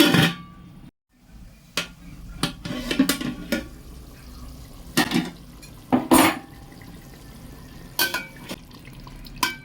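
A metal lid placed on a cooking pot, with scattered clanks and scrapes of cookware and light sizzling between them, close by and fairly loud against a quiet background.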